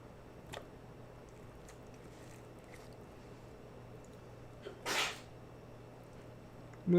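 A single short, sharp human sneeze sounds nearby about two-thirds of the way through, set against a quiet room hum with a few faint ticks and small noises around it.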